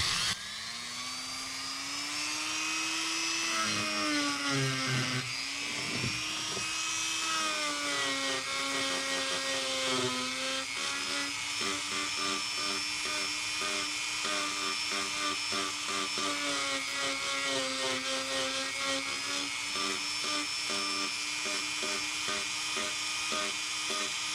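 Dremel rotary tool with a sanding attachment working a surface, a steady high-pitched whine that shifts in pitch as the load changes, continuous and close for the whole stretch with no talking.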